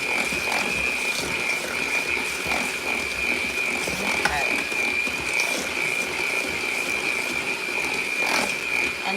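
Lemon cookie dough is mixed with a steady, whirring, rattling drone that holds a constant high whine for the whole stretch, with no talking.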